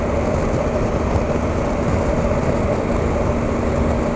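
A 2018 Triumph Tiger 1200 XRX motorcycle engine running steadily in sixth gear while riding, a loud continuous drone mixed with wind rush.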